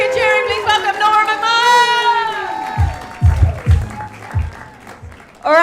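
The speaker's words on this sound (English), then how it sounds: "All I need you guys to do, start the applause! Louder, louder, louder!" Audience at a live standup comedy competition applauds and cheers, a burst of clapping rising under an announcer's amplified voice, which calls over the crowd before the noise tapers off.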